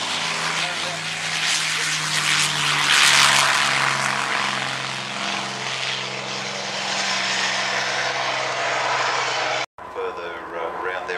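A warbird propeller aircraft rolls along the runway with a loud, steady engine drone and propeller hum, and a voice talks over it.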